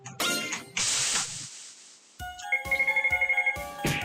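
In an RPG Maker game, a chiming alert sound plays near monsters: a quick run of bright, evenly spaced electronic beeps. It follows a couple of earlier noisy bursts of game sound effects, with no talking.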